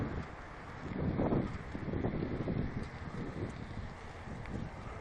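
Wind buffets the microphone during an evening bicycle ride, a steady rushing roar with gusty swells and no voices.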